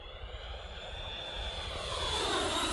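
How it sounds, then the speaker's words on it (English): A Freewing Venom 90mm EDF radio-controlled jet makes a flyby, a steady ducted-fan whoosh and whine that slowly grows louder as it passes, heard alone outdoors. "let's do some smooth flybys real quick"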